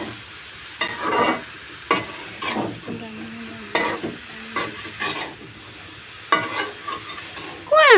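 Food is stirred in a frying pan, with scraping strokes of a spatula in irregular bursts over a low background sizzle, close and fairly clear.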